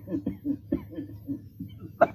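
Coughing in a 1935 Marathi film scene: a series of short, rhythmic coughs close to the microphone, ending in a sharper burst.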